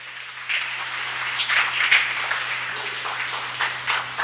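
A church congregation claps together in a steady, fairly close round of applause that swells and fades in waves, with faint voices mixed in.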